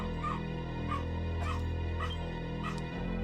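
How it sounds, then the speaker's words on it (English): A dog in the game Dragon Quest IX gives a series of about five short yips and barks at a steady rhythm, over a loud constant droning music bed. "Bark, bark, bark, bark."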